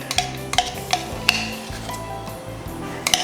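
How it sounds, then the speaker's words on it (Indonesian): Spice paste being stir-fried in a pan for a rice dish, with scraping spatula strokes and sharp clinks against the pan above a low sizzle, repeating every half second or so, close and moderately loud. "Oke, ini baru ditumis ya"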